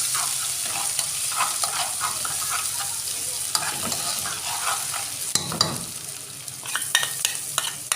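Garlic frying in a hot mix of oil and ghee while being stirred, a steady close sizzle with scraping and clinking of the utensil in the pan throughout.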